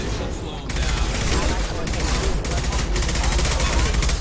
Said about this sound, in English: His mechs shoot without question.